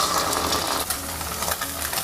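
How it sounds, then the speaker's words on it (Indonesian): Egg tofu sizzles and crackles steadily in a drop of oil over medium heat, a dense, loud, close frying hiss with no talk. "Gunakan api sedang saja, goreng tahu telur pelan-pelan ya"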